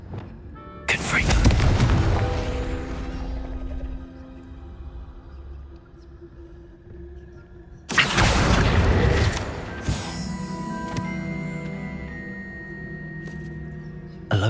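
Two Confringo blasting spells in Hogwarts Legacy burst with loud booms, one early and one about seven seconds later, each followed by a rumbling decay and lingering tonal ringing.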